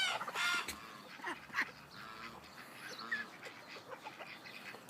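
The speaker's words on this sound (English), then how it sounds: "Look at that blue Ancona duckling, so pretty." Blue Ancona duckling among mixed backyard poultry, with a busy stretch of quacks, peeps and honking calls from several birds, some close and loud, others softer, and no talking.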